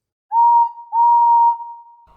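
An engine whistle in a yard shed sounds twice, a brief note followed by a longer steady blast that tapers off, loud and alone.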